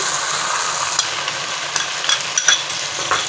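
Mutton karahi frying in a pan with yogurt, Lahori Butt style, gives a steady broadband sizzle with faint scraping stirs and small spattering pops throughout.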